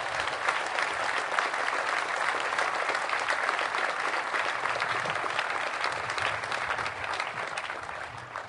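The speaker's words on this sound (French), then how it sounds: "Moi, j'aimerais qu'on les applaudisse" A dense, sustained round of applause fills a hall during a French presidential speech honouring Ingrid Betancourt, with many hands clapping loudly and continuously and no break.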